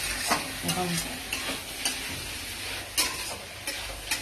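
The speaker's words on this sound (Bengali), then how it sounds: "এবার কষাতে থাকতে হবে" Chicken masala sautéed with chili powder for Chettinad chicken, a constant oily sizzle with regular spatula scrapes and knocks against the pan, close and steady, with no talking.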